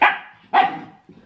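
A dog gives two sharp barks close by, each trailing off, followed by a faint low yip at the end, with no talking.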